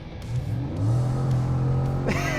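A big car with a Harrop supercharger, custom tuned by Walkinshaw to about 500 kilowatts, accelerating hard, its engine note climbing steadily and loud up close, then a quick shift near the end.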